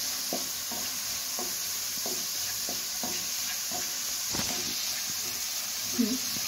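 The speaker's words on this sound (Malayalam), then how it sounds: "ഇത് ഞാൻ നെയ്യിൽ വരട്ടിയെടുക്കുകയാണ്." Grated beetroot is roasted in ghee over a low flame, a constant soft sizzle and hiss with a regular rhythm of spatula stirring strokes about every second, close by and steady.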